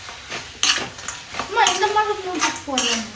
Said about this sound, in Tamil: இப்போ இதில் நம்ம நண்டு சேர்த்துக்கலாம்.